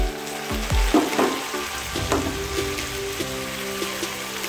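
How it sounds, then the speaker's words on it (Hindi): Tomatoes are added to a pan of spices cooked with turmeric, coriander and garam masala for rajma, giving a near, steady frying sizzle with a few stirring knocks at the start. "अब इसके बाद हम टमाटर डालेंगे।"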